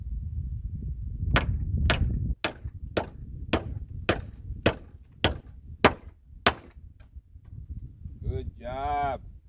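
Hammer blows drive nails into dry, split-prone wood for a doghouse, about ten sharp, evenly spaced strikes close by, followed by a brief animal-like call at the end.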